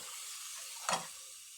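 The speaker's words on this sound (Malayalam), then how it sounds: "എന്നിട്ട് ഇതെല്ലാം കൂടി ഒന്ന് ഇളക്കി കൊടുക്കാം" Curd curry being stirred in a pan, a single brief scrape of the spoon rising over a steady soft sizzle, close and fairly quiet, with no one talking.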